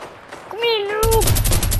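Rapid automatic gunfire rattles out in a loud, sustained burst in a Fortnite match, following a brief wavering tonal cry.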